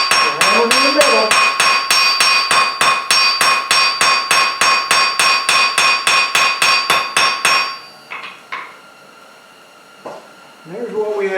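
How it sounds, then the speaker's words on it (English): Hot steel being forged into a folded leaf takes a long run of rapid, evenly spaced hammer blows that ring loudly and metallically, then the strikes stop and a few scattered knocks and faint sounds follow. "We're hammering in the middle."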